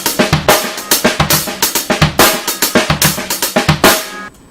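Progressive rock drum beat on a kit with snare, hi-hat and bass drum, played continuously at a brisk steady pace, loud and close, ending with a ringing cymbal decay.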